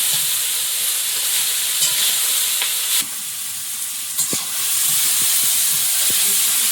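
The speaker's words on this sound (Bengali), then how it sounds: "চিংড়িগুলো একটু ভাজা হয়ে গেছে" Prawns sizzle loudly in a hot pan during village cooking in the Sundarbans, a continuous frying hiss broken by sharp clicks and scrapes from stirring.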